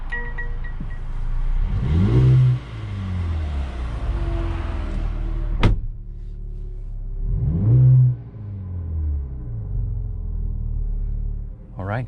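A 2021 Mercedes-Benz GLB 35 AMG on a test drive gives two loud surges of acceleration with a rising, throaty engine note, the engine droning steadily between them and one sharp click near the middle.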